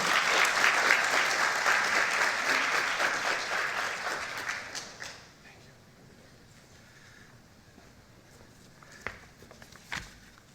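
Applause from a luncheon audience at a college of pharmacy scholarship event greets a donor stepping up, a dense steady clapping for about five seconds that fades into quiet room tone with a few faint knocks.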